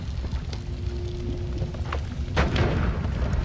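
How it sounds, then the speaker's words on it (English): An explosion that sets fire in the game Noita: a low rumbling crackle, a faint steady tone, then a louder burst of crackling fire and boom near the end. "Because it explodes and it makes fire."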